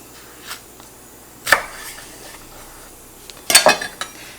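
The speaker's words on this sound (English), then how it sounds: "I'm going to cut off about half of this pepper" A knife slices through a hot pepper on a board, producing a few short, sharp taps and cuts, with three distinct knocks spread apart and the last one a quick double strike, heard up close against a quiet kitchen.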